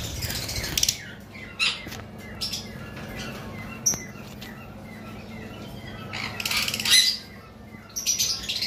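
Turquoise blue and creamino parrotlets squawk and chirp in short bursts, with a steady low hum underneath.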